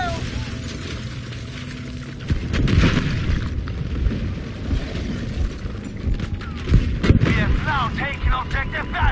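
A grenade goes off in a chaotic firefight, heavy booming blasts and gunfire rumbling near and loud from around 2.5 seconds on, mixed with shouting voices and continuous battle noise.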